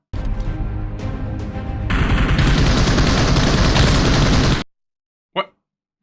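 Rapid video game gunfire is sprayed at a wall in a loud, dense, unbroken burst lasting about four seconds that cuts off abruptly, followed by silence and a short sharp sound.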